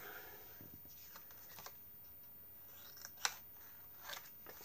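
Scissors snip the corners off paper for a handmade ribbon-bound mini album, a few short crisp cuts, the sharpest one near the middle, close up over a quiet room.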